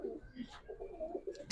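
A female military pigeon coos in a short run of soft, low, rolling notes close by, ending with a sharp noise burst.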